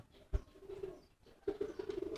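A protective pigeon guarding its young gives a sharp flap or thump, then low repeated coos that rise again after a pause, close and fairly quiet.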